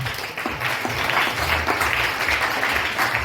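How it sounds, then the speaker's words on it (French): A church congregation applauds steadily, a dense wash of clapping that fills the whole stretch at a constant, fairly loud level with no voices rising above it. "On acclame le Seigneur."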